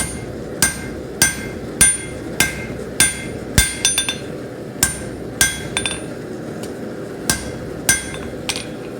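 Blacksmith's hammer striking hot steel on an anvil while forging a taper, a steady run of about a dozen sharp, ringing blows at roughly half-second intervals, close and loud with no talk.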